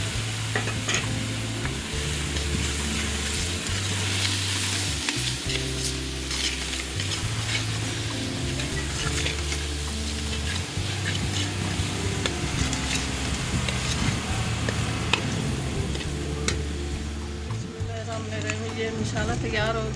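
Spices for black chana masala frying in a pan while being stirred, a steady loud sizzle with scraping stir strokes running throughout, a voice talking over the cooking.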